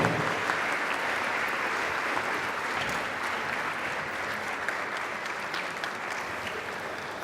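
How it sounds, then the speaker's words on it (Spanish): Loud, sustained applause from a crowd, steady clapping throughout with no pauses. "Un aplauso de bienvenida"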